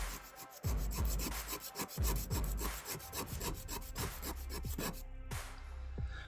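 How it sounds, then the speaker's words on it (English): Steady back-and-forth rasping strokes of hand sanding a diecast model truck, close up and fairly quiet, in an irregular but continuous rhythm. "If I just sand it like that, I should have a sanding stick in here"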